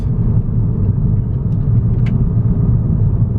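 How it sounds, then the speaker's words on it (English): A turbocharged VW TDI diesel with a suspected bad turbo runs as a loud, close, low rumbling drone with a faint brief whistle-like spool rising once, steady throughout. "the turbo is definitely working. I can hear it"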